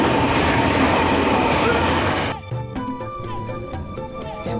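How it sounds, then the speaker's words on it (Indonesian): A train passes close by with a loud, broad rumble that cuts off abruptly midway and gives way to quieter rail clatter and ringing tones. "Kan ada kereta ya?"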